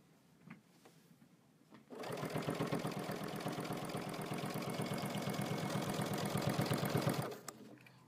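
Sewing machine stitching quilt binding with an edge-joining foot, starting after a brief quiet moment and then running at a steady fast rhythmic whir for about five seconds before stopping, close and clear with no speech.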